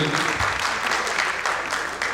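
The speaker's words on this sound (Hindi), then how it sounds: "श्रीमती अंकिता कुमार, जोरदार ताली चाहूंगा अंकिता जी।" An audience at a stage play applauds loudly and continuously, a dense close wash of clapping from many hands.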